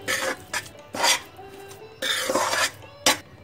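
A spoon scrapes and stirs khoya roasting in a pan for gajar halwa, a series of rasping, metallic scrapes in short bursts, close and fairly loud, with no one speaking.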